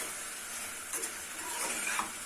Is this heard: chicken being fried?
yes